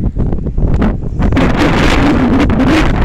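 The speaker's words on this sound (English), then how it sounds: "I don't know how long we're going to stand this wind" Strong gusting wind buffets the microphone outdoors in Oakland Cemetery, a loud continuous roar and rumble that swells and persists throughout.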